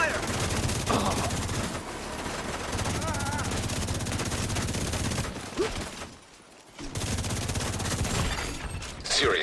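Heavy automatic gunfire in The Division 2, dense rapid bursts that fill most of the stretch, briefly dropping out near the end before resuming, with shouted in-game voices over it.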